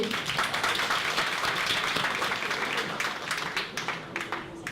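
Audience clapping at a live performance, a dense sustained round of applause with individual claps audible, gradually thinning toward the end, a few voices faintly mixed in.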